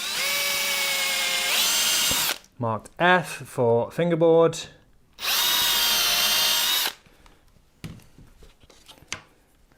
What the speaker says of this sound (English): I'm going to drill the holes